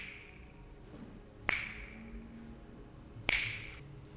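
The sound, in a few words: finger snap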